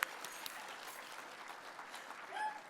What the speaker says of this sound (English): let's clap, let's go